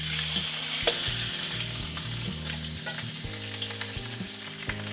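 Catfish pan-frying in hot oil on high heat, a continuous bubbling sizzle with scattered sharp pops and crackles, close and steady.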